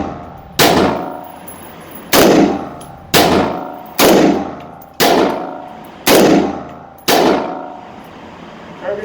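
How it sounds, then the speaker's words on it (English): AR-15 rifle firing FMJ rounds into Safety Networks laptop armor, six sharp gunshots with metallic clangs of impact, evenly spaced about a second apart, loud and close, each followed by a short decaying ring. "I'm gonna shoot 3 times over here and 3 times over here in succession."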